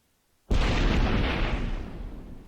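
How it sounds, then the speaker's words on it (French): Modded explosion sound effect from a video game resource pack: one sudden, loud booming blast after a moment of silence, then a long rumbling decay that fades slowly. "Voilà, ça fait vraiment explosion."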